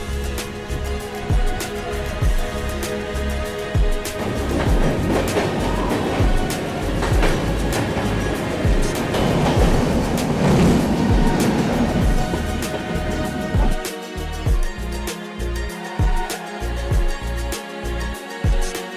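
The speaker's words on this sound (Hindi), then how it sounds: "फिलहाल कुछ देर चलेगी अपनी गाड़ी टनल में" A passenger train runs through a string of small mountain tunnels, its loud rumbling roar and rhythmic wheel clatter continuous, echoing and shifting as it enters and leaves the bores.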